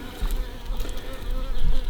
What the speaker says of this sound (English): Finally got most of the bees out of it.